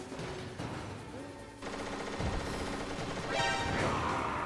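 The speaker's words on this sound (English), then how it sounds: "he will see Nikita missiles coming and try to shoot them down" Video game gunfire from Metal Gear Solid as an enemy shoots at incoming Nikita missiles: bursts of rapid shots and mechanical clatter over game ambience, swelling louder toward the end.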